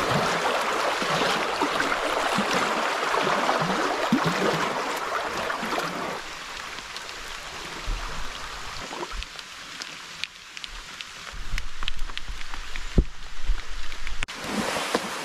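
Rain falls steadily on water during a solo wilderness canoe camping trip, a dense hiss that is loudest early on and then thins to scattered drops and patter. No one speaks.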